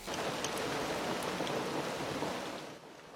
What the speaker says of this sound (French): La pluie lave le fongicide.